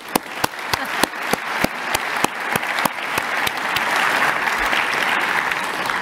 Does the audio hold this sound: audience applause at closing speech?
yes